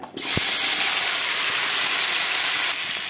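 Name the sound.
potatoes and flat beans sizzling as they go into hot oil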